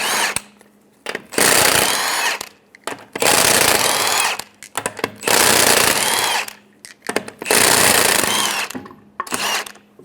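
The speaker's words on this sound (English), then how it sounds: "we're going to remove the lug nuts." Rapid bursts from an impact tool with a 19mm socket loosen the lug nuts on a 2003-2008 Honda Pilot wheel, four loud rattling runs of about a second each, split by short pauses.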